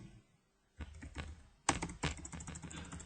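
A short burst of close computer keyboard typing: a few soft taps, then louder, sharper keystrokes in a quick uneven cluster, including a press of the Enter key.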